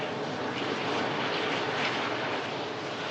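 A Jet2 Airbus A330 airliner touches down, giving a steady, loud, broad roar of engines and rushing air that holds evenly throughout with no voices.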